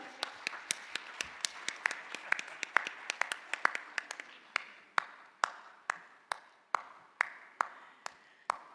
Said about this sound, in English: Round of applause for Dr. Helia